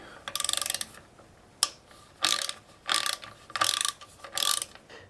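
Ratcheting screwdriver turning out the Phillips head screws on a Tomos A35 moped's oil pump, five close rasping bursts of rapid clicking separated by short pauses, with one sharp tick between them.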